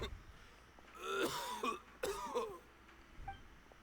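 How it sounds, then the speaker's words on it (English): A male character in Genshin Impact coughs hoarsely in two rough fits, throaty and strained, followed by a faint weaker cough near the end. "Why is he coughing so much?"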